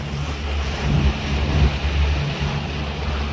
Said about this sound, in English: The wind's in my face here.